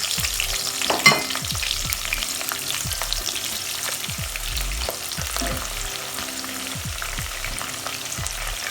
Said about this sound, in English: So our chopped onions will go in.